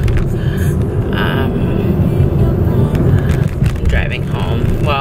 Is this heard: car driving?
yes